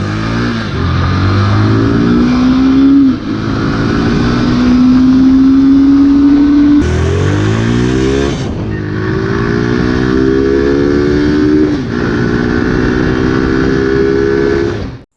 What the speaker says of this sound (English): The exhaust note on the Gixxer is also crisp and bassy.